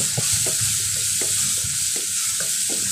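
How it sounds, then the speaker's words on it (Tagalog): Tomatoes sauté in hot oil for ginisang upo with sardines: a constant bright sizzle, with soft scraping strokes of a spatula stirring the pan about twice a second, close and alone. "Sangkotsahin na rin natin guys na hanggang sa maluto yung kamatis."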